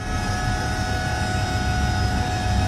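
An airplane flies overhead, producing a steady, loud engine roar with a dense rumble and sustained tonal hum throughout, and no talking.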